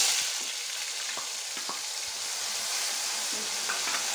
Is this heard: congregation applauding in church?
no